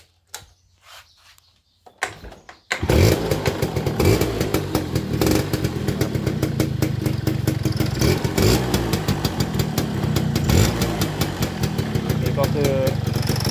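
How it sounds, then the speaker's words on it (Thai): A motorcycle engine that has just been overhauled and repainted starts up after a few quiet seconds with faint sounds. It then runs loud and close at a steady, rough idle with slight revs. "เดี๋ยวจะมาสตาร์ทเครื่องดู"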